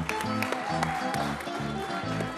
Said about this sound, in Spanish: pido un fortísimo aplauso para Rosi de Ferrol